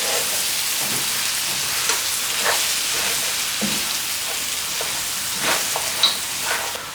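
Garlic sizzles steadily in a hot pan with oil, a dense close crackle broken by soft scraping stirs, during preparation of a Cantonese coconut beef curry.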